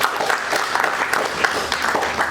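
Audience clapping in a classroom lecture, brisk and fairly close, a dense patter of hands that holds steady for a couple of seconds.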